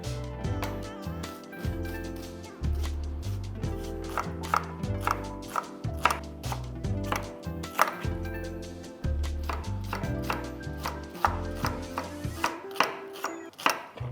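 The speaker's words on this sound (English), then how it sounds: "we have to literally chop onions, chop some chilies" A knife chops onions and chilies on a board in quick rhythmic bursts of sharp close thuds, pausing briefly between runs, with no talk.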